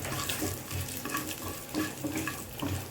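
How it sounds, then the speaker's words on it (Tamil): Cashew nuts sautéed in a pan for ven pongal, with steady stirring scrapes and a soft, continuous sizzle close by. "இது கொஞ்சம் நல்லா வதக்கி விட்டுட்டு அதுக்கப்புறம் முந்திரி பருப்பு சேர்த்துக்கோங்க"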